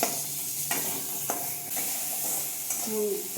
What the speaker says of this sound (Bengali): টমেটোটা ভেজে নেবো ভালো করে